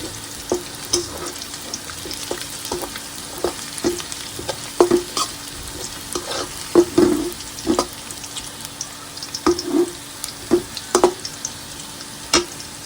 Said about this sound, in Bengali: পেঁয়াজটা আমি বাদামি কালার করে ভেজে নেব